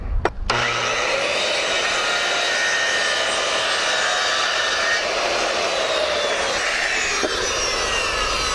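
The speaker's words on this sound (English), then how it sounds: "Now we have a perfect miter cut." A power saw making a miter cut in wood for fascia and soffit repair, a loud continuous whine and roar that holds steady for several seconds after a brief start-up.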